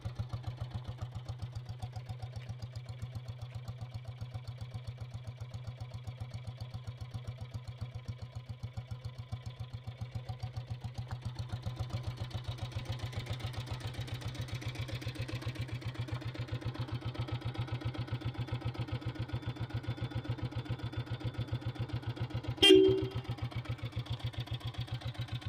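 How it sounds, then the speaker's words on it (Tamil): A red Royal Enfield Deluxe self-start diesel Bullet motorcycle idles steadily, its low, even thump running close and alone throughout, with a brief sharp knock near the end. "வண்டி பீட் சவுண்ட் அருமையாக இருக்கும்."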